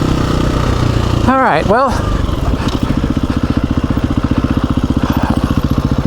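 KTM 350 EXC-f four-stroke dirt bike engine on a rocky trail ride, idling with a steady rapid thump, then a brief rev that rises and falls twice before settling back into a loud, even putter, with someone speaking briefly over it.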